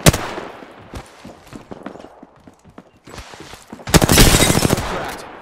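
Gunfire in the video game Apex Legends comes in loud, close bursts: a sharp opening shot, a few scattered shots, then a dense sustained volley near the end.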